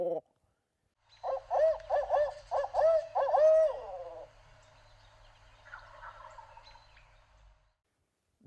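A voice imitates a barred owl's rhythmic "who cooks for you" hooting call, a series of close, loud hoots trailing off, with faint low rumble underneath and quiet sounds afterward.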